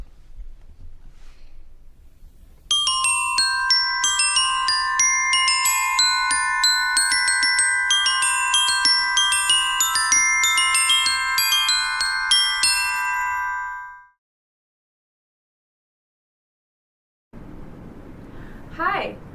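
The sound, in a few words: glockenspiel played with mallets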